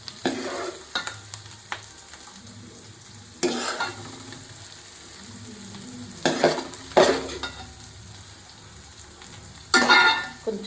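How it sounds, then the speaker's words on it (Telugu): Onions fry in a pan with a soft continuous sizzle, broken by several bursts of scraping as a spoon stirs them, up close with no voices. "ఇదిగోండి ఉల్లిపాయలు వేగిపోయినాయి కదా"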